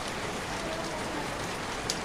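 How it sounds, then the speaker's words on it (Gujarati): Heavy rain pouring down steadily during an all-day downpour, a dense, continuous hiss of falling water at even loudness with no pauses. "વરસાદ એટલો બધો ચાલુ થઈ ગયો ને તે ઊભો રહેવાનું નામ જ નહીં લેતો"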